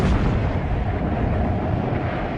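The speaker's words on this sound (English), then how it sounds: "The bombers, flying low to drop their load, came under increasingly heavy anti-aircraft fire." Heavy anti-aircraft fire aimed at low-flying bombers in a World War I air raid: a dense, continuous rumble of booming bursts with no gaps, loud and sustained throughout.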